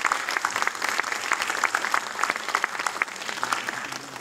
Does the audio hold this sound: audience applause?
yes